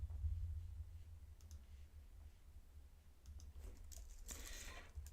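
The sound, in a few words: computer mouse clicking to open Discord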